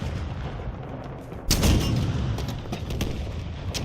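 A rocket launcher fires in the Halo Infinite campaign, one loud blast cutting through continuous rumbling battle noise, followed by a few sharper distant bangs.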